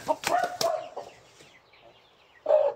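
Brahma hen clucking and flapping in a backyard flock, a few loud close bursts at the start, then a quiet gap before another clucking burst near the end.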